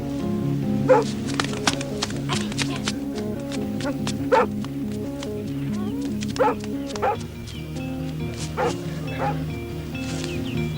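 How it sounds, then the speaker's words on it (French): A dog in a 1978 television episode gives repeated short barks and yips about once a second over a steady musical background, with a whimpering tone at times. "Oh, le joli chien."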